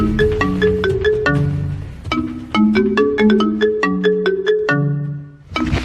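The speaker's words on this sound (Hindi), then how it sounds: "अबे कोबरा, तुम्हारा फोन बजे उठाता क्यों नहीं है?" A phone ringtone plays a bright, repeating electronic melody, loud and close, cycling through the same tune twice.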